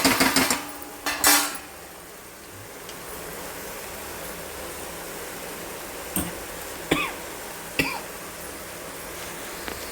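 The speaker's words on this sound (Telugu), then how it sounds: "కలపాలి మంచిగా." A spoon mixes ponaganti leaf dal in a cooking pot, with a quick cluster of clattering knocks against the metal early on and then a few sparse clinks over a steady low hiss. No one speaks.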